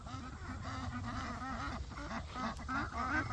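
A small flock of farm ducks quacks and chatters continuously at close to moderate distance, with overlapping calls in busy bursts.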